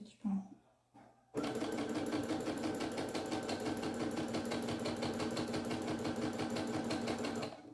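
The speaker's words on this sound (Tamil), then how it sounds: "நம்ம பாடி பார்ட்டை நம்ம ஸ்டிச் பண்ணுவோம்" A sewing machine stitches the body part of a top, starting after a short pause and a brief voice, then running fast and steady in a close, rhythmic clatter for several seconds.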